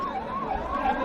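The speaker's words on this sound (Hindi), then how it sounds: "भैया ये एम्बुलेंस को निकलने दीजिए प्लीज" An ambulance siren wails steadily nearby, its pitch sweeping up and down in a continuous cycle over traffic noise.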